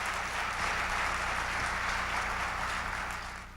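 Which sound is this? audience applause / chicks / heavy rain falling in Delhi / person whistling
audience applause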